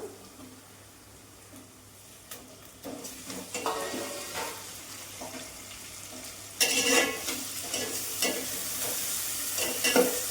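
Onions and tomatoes cooking in a pan for a gongura curry with dried shrimp, a close sizzle under repeated stirring and scraping strokes that turn louder and busier partway through.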